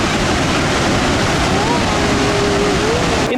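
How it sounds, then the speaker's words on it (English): Horseshoe Falls at Niagara Falls, Canada, pours water over its edge in a steady, heavy roar that blankets the scene without pause, with a faint voice-like tone drifting faintly through it. "you see like the water going right over the edge"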